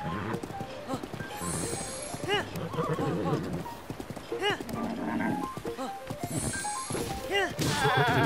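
A giant horse in the Breath of the Wild video game whinnies several times in rising, wavering calls over a steady clip-clop of hooves and busy background game sound, with a voice mixed in.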